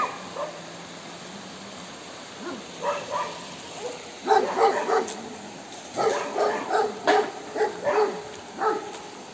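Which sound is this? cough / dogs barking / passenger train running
dogs barking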